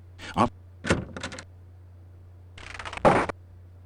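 A door being knocked on in the video game Quest for Glory 4, with two separate bursts of dull, hollow thuds heard alone over a low steady hum.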